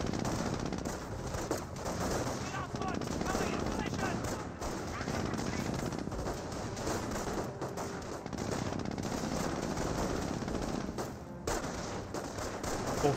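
Volksgrenadier infantry trade gunfire with a jeep in Company of Heroes, sustained bursts of machine-gun and rifle fire crackling continuously through a busy battle mix, with a voice talking over it.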